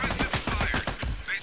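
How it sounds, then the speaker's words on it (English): Rapid automatic gunfire from the co-op shooter game Army of Two, a loud, steady burst of repeated shots close up. "Did you just shoot at me?"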